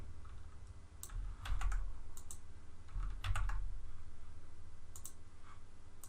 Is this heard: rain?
no